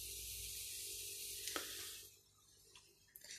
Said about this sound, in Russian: здесь вода как бы кипит